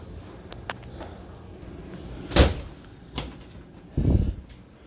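An RV bedroom sliding door on a 2020 Heartland Pioneer RG26 travel trailer is unclipped and rolled open and shut, giving a few soft clicks, a sliding rumble and a dull closing thump in a quiet room.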